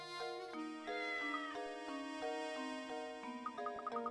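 A cat meows in the video game Professor Layton and the Curious Village, a run of clear, pitched, stretched mews stepping up and down in melody for several seconds, close and alone with no talking.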